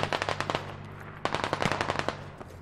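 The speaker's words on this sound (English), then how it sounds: "Yeah, I hear him cracking shots again." Rapid bursts of automatic gunfire sound in a video game squad assault on enemy fortifications, with two clustered volleys of sharp cracks separated by a short pause and no speech.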